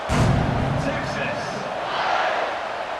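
Stadium crowd roar in the College Football 26 video game, a loud, continuous wash of cheering swelling at the start and holding steady throughout, with an announcer talking over it.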